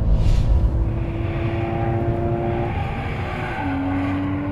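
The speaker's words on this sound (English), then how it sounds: "There's nothing like the sound of a Porsche flat 6 on an upshift." A Porsche flat-six sports car engine screams at high revs in a smooth sustained pitch, then drops and climbs again after an upshift, loud and up close with no talking.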